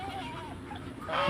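Geese and Peking ducks in a farm pen give a brief honk amid soft background noise, fairly close and short.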